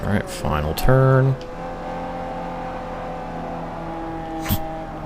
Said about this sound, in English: Was gonna ask why the Miata makes weird noise